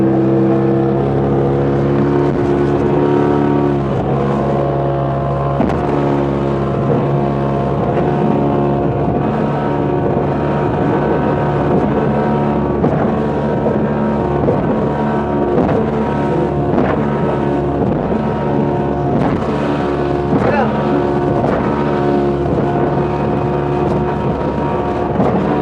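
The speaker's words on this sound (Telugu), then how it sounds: "చూడండి స్పీడ్ బోట్ స్టార్ట్ అయిపోయింది. ఇతనైతే డ్రైవింగ్ కూడా స్టార్ట్ చేసాడు." A speedboat engine drones loud and close while the boat runs over sea waves near a beach, with wind buffeting the microphone and occasional thuds as the hull bounces.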